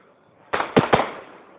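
Three fireworks bursts go off outdoors in quick succession, a sharp loud pop followed by two more cracking bangs about a quarter second apart, each trailing off into a fading rumble.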